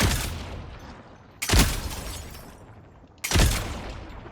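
Gunshots from a video game weapon ring out three times at even intervals of about a second and a half, each a sharp close crack with a decaying tail and no voices.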